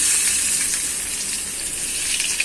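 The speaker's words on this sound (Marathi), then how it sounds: "आता इथे आपलं तेल पण तापलंय. आता आपण कांदा घालूया" Onion hits hot oil for a cabbage besan dish, giving a loud, close, continuous hissing sizzle with a few small pops near the end and no voices.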